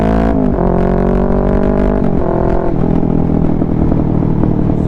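A Kawasaki Ninja 650 with a full Mivv exhaust system revs loudly up close, its pitch stepping up and down through several throttle blips.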